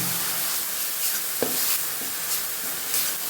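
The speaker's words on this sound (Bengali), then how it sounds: "মশলাগুলো আছে পেঁয়াজ রসুন সর্ষে বাটা কাঁচা লঙ্কা বাটা এই কড়াইতে দিয়ে দিলাম" Onion, garlic, mustard paste and green chili paste sizzle steadily in a hot kadai for a fish curry, a continuous close frying hiss with one brief stirring knock and no talk.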